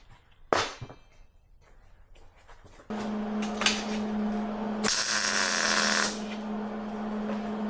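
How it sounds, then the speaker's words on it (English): Welding on a battery box in a workshop: after a sharp knock, a steady crackling buzz with a low electrical hum starts partway through and runs to the end, growing louder for a stretch in the middle. "think we're good to weld it."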